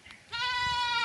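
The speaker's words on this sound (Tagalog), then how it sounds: "Kanino bang kambing itong umiiyak na ito?" A goat on a mountainside farm gives one loud, close, wavering bleat that starts after a brief quiet moment and holds to the end.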